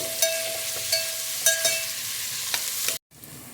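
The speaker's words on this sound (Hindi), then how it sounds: "अब इसको हम लाइट सा ब्राउन कर लेंगे अपने प्याज को" Onions fry toward light brown in a pan for a fish curry: a steady close sizzle with a few sharp spatula taps and scrapes, cutting off abruptly near the end.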